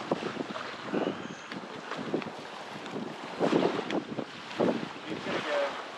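Strong wind gusts buffet the microphone beside a fire outdoors on a bay, a steady rushing roar swelling and easing for several seconds with no talk.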